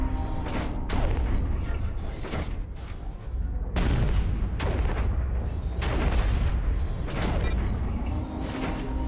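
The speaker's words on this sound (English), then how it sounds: "Shooting directly into their base does not feel right." Sharpshooter mech in Hawken firing on an enemy base from long range, heavy booming shots at roughly one-second intervals, each with a sharp crack and rumbling tail over mechanical clanks and a low engine hum.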